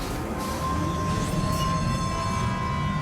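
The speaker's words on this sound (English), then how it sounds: "Get on the monorail and let's ride." Monorail ride in the video game Death Stranding 2, a steady loud rolling rail rumble with a sustained whine running throughout, no talking.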